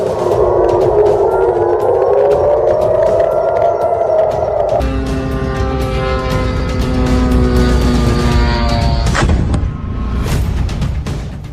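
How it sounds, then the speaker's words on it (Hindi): An air raid siren wails in a steady rising and falling tone at a US airbase in Jordan, loud and continuous, then gives way to layered mechanical drone and rumble with no talk. "जॉर्डन में सायरन अलर्ट पर यूएस एयरबेस"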